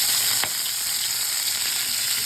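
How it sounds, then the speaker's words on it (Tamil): Green chillies, garlic, ginger and tomatoes fry in a pan over low heat, giving a steady, dense sizzle that carries on evenly throughout with no voices. "ஸோ நல்லா சிம்மில் வச்சு நம்ம நல்லா ஃப்ரை பண்ணலாம்"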